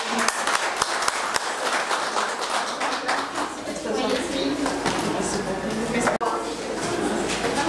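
Audience applause at a DELF diploma ceremony, June 2022 session: a dense, steady patter of many hands clapping that carries on throughout, with voices talking over it.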